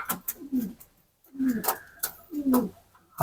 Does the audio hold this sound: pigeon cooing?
yes